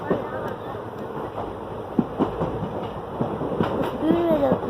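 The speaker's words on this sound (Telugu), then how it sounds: "ట్రైన్ స్పీడ్ పెరిగింది." A moving passenger train picking up speed, heard from on board as a constant rumble with rhythmic clacks of wheels over rail joints, while a voice talks over it.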